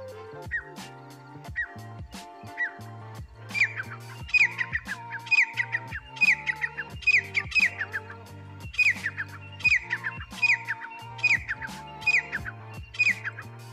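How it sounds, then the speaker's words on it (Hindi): Repeated bird calls, believed to be a quail, ring out on a farm field at night, sharp squawking whistles coming in quick bursts that grow denser and louder through the clip, with no talking. "भाई ये कौन से पक्षी की आवाज है कमेंट करके जरूर बताना। हम तो इसे बटेर बोलते हैं"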